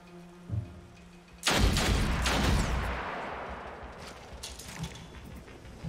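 Gunshots in the video game Othercide: a soft thump, then a loud blast-like burst with a long rumbling decay lasting a couple of seconds, followed by faint scattered clicks.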